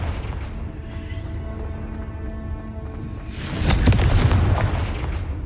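A Confringo blasting spell explodes in the Hogwarts Legacy video game: a loud, booming blast erupts after a few seconds of quieter game ambience and rumbles on to the end.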